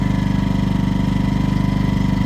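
A portable generator engine, restarted after sitting unused for 19 months, fires on the first pull and settles into a steady, loud, close idle with an even chugging pulse.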